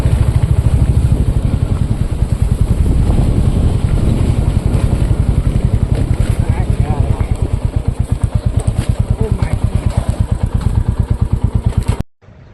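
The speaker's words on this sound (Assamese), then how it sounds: "বাইকটো লৈ যোৱা বহুত ৰিস্ক হৈ আছে" A motorcycle rides over a slippery, muddy rural road, its engine throbbing loud and close in a rapid, steady pulse for about twelve seconds before cutting off abruptly.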